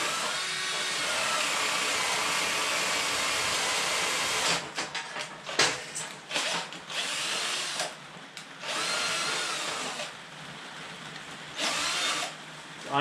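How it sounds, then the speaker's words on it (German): A cordless drill fitted with a metal drill bit bores into wood, a loud steady whine that runs alone for several seconds, then breaks into bursts and pauses as the bit bites and stops. "Gut, an den Akkuschrauber und los."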